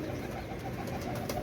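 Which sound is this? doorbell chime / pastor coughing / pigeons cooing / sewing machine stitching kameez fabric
pigeons cooing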